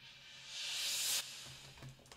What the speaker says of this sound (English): reverse cymbal